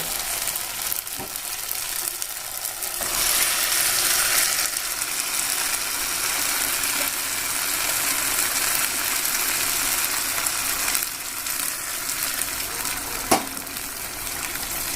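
Mutton dropped into oil-rich fried spice masala sizzles steadily for the whole stretch, a dense hiss with scattered scraping clicks and one sharp knock near the end; no voices.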